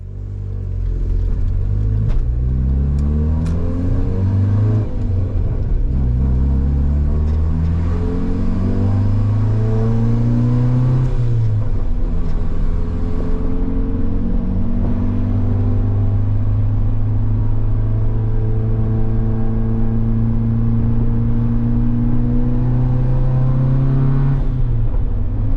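A turbocharged car with a 3-port MAC valve boost controller and a PLM MAP sensor makes repeated acceleration pulls. Each pull is a loud, rising engine drone that climbs steadily through the gears, with brief dips at the shifts, and no talk over it.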